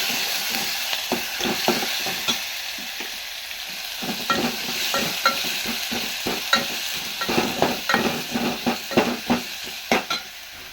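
Garlic paste sizzles as it fries in hot tempering oil for a Kannada-style saru, while a spoon repeatedly stirs and scrapes the pan, making a steady series of clinks over the continuous frying hiss.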